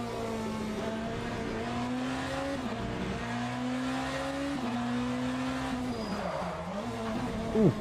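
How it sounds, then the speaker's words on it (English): Engine drone of a BMW hypercar in the Le Mans Ultimate racing game, pitch gliding down as the tires lock and squeal under hard braking, loud and continuous. "Ooh, bit of a lock-up."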